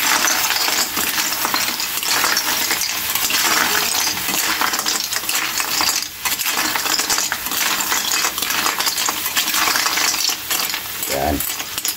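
Shellfish being mixed in a cooking pot, with continuous loud sizzling and clattering shell-on-metal rattles and a few heavier knocks, close up and without speech.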